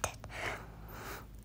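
A single close, breathy yawn from one person, opening with a sharp intake of air and then a drawn-out airy exhale that fades over about a second and a half.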